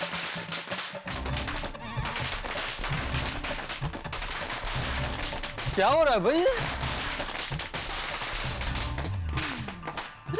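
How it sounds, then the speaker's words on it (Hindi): Rapid popping bursts of firecrackers crackle continuously in the background while someone speaks, with a whistling rocket squeal rising midway. "अरे पटाखे क्यों?"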